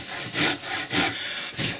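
A hand saw cutting wood, with three steady rasping strokes in an even back-and-forth rhythm, close and clear, with no talking.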